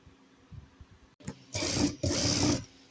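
A tailor's sewing machine stitches fabric in two short loud whirring runs after faint handling and rubbing sounds, close by, with no talking.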